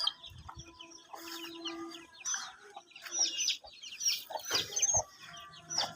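Chickens at a village farm cluck and chatter close by, with irregular bursts of squawks and bird calls and no talking.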